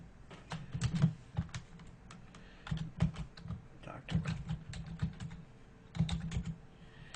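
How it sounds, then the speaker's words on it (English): Someone types on a computer keyboard, with bursts of quick clicking keystrokes separated by short pauses, close and fairly loud with no voices. "And now we can start typing."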